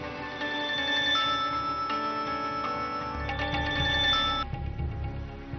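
A telephone rings with a repeated electronic tone pattern in an indoor drama scene, fairly quiet and steady, alone with no voices, cutting off near the end.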